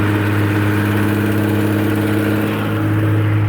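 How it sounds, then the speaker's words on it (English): An old truck engine idles close by, needing exhaust manifold gaskets, with studs on the cylinder nearest the listener working loose; a loud, steady low rumble with a faint rapid ticking running through it and no voices. "It needs brakes, it needs exhaust manifold gaskets too. You can hear a little bit of a tick down here."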